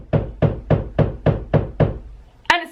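A steady series of seven muffled knocks from workmen next door through a wall, evenly paced, ending with a sharper clatter.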